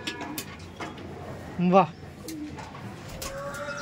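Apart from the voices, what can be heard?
pigeons cooing in a loft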